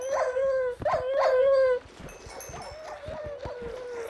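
Several dogs barking, yelping and howling together, a few drawn-out howls followed by a quicker run of sharp barks and yips, fairly close and lively.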